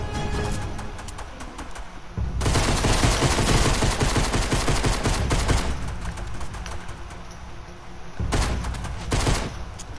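Rapid gunfire crackles in Fortnite, dense sustained bursts of shots filling most of the span with brief quieter gaps between volleys, loud and close.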